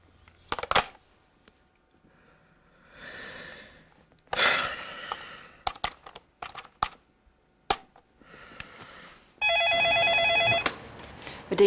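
A telephone rings with a steady, loud electronic tone near the end, after scattered keyboard-like clicks, taps and breathing in a quiet room as Steve places a call.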